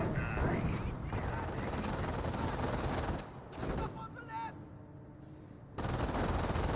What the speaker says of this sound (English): Grenadiers receiving some suppression there, now as well as the fire from the Staghound